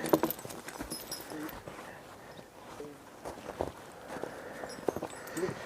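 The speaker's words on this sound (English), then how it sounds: "We have a team here of horses, halflinger horses, a mare and a gelding, Dana and Dodge." A team of Haflinger horses, a mare and a gelding, working at timber hauling, walk with irregular hoof clip-clops and shuffling steps at moderate distance, with faint background movement between the hoofbeats.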